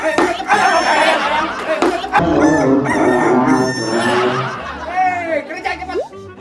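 A voice squawks and clucks in imitation of a chicken, several loud rising calls delivered close up, mixed with lively talk and chatter among others nearby.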